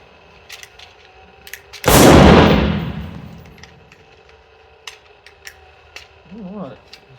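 A Remington Nylon 66 semi-automatic .22 rifle fires a single loud, sharp shot of CCI Mini-Mag ammunition outdoors, with a long decaying echo and faint background noise afterward.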